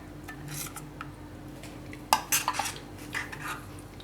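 Cooked soya vadi curry in a yogurt (curd) gravy being spooned from a pot onto a plate, with a few clinks and scrapes of a metal utensil against cookware, clearest in a short cluster midway, over a quiet kitchen background.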